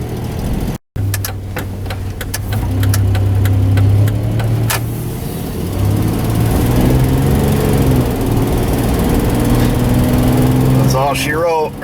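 A Dodge Dakota pickup with a front axle noise drives on the road, engine drone rising and shifting with speed under steady road roar, close and loud, with a few clicks near the start.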